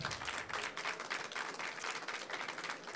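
Audience at a live podcast show applauding, a dense, continuous wash of many hands clapping that stays fairly steady for a few seconds, heard at moderate distance.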